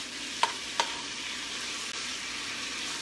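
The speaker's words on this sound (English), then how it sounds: "See this sizzling? That's what I want." Food for Korean kimbap fries in a pan with a steady hiss of sizzling oil, broken by two sharp utensil clicks against the pan early on; no one speaks.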